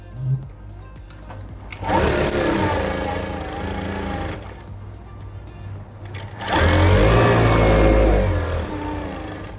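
Close up, a sewing machine stitching an Afghani salwar runs in two long bursts of rapid mechanical whirring and clatter, with a short pause between them.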